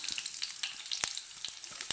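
Mustard seeds sizzling in hot oil: a close, continuous hiss punctuated by sharp crackles and pops.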